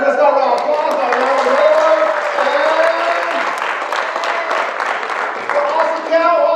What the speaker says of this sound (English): Let's start with applause